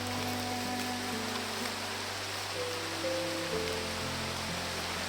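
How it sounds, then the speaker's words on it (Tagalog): Steady rain pours down in a dense, even hiss, constant throughout with no voices. "Tol, umulan na naman, tol."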